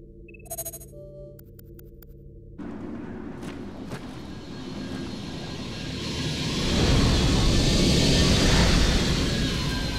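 A landing aircraft's engine in the video game Vanquish rumbles steadily and grows louder and closer toward the end, a broad roar with no speech.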